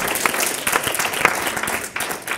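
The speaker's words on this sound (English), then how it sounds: "let's just give mothers a big round of applause" A church congregation claps warmly for mothers on Mother's Day, a loud, dense round of applause with scattered sharper claps standing out, dipping briefly near the end before carrying on.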